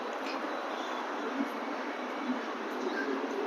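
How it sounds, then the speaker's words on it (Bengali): Noida's NSEZ metro on the Aqua Line produces a steady broadband rumble and hiss, continuous and close with no distinct events, heard alone without talk. "এই এনএসইজেড মেট্রো মানে এটা হচ্ছে অ্যাকোয়া লাইন"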